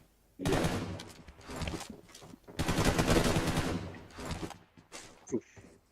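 Gunfire in the video game PUBG during a tournament; dense bursts of rapid shots in two loud clusters, then a few isolated bangs, heard up close.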